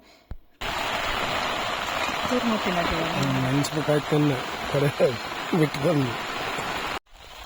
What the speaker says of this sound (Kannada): ಮಳೆ ನೋಡಿದರೆ ಅಷ್ಟೊಂದು ಬರ್ತಿದೆ